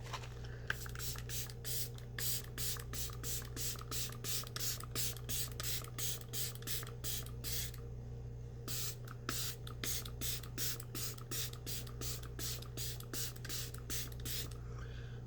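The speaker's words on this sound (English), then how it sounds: "For setting spray today, I'm going to use the LYS." Repeated short hissing sprays of makeup setting spray in quick bursts, with a brief pause midway, over a steady low background hum.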